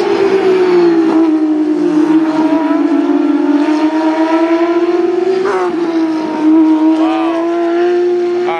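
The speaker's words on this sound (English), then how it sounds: "For watching these cars go by. I can't imagine how fast they're going." Racing cars roar past at the 2014 Melbourne Grand Prix community day at Albert Park, producing a loud, continuous high-pitched engine whine with shifting pitch as they sweep by.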